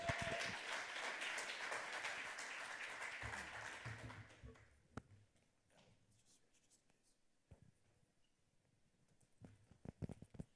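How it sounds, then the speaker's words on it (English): Audience applause at a hacker conference lightning talk session, a dense burst of clapping for roughly four seconds that fades out, followed by scattered knocks and quieter room noise. "Give him another round of applause for dealing with a bum mic."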